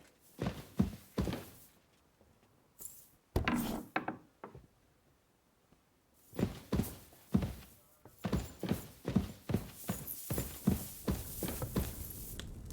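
Horse hooves clop and thud in Kingdom Come Deliverance 2, a run of heavy hoofbeats that pauses briefly, then resumes as a steady, close, loud gallop-like rhythm.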